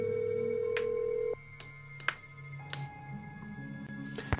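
A phone line in a Nancy Drew game rings during a call, a steady electronic tone cut off after about a second and a half, then sparse clicks and faint line noise follow.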